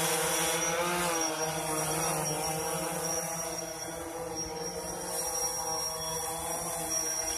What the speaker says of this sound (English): We're just going to put the drone into a hover.